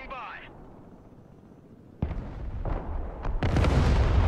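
Distant artillery fire in the Broken Arrow war game, a faint bursty rumble first, then louder booming blasts building toward the end over steady battlefield noise.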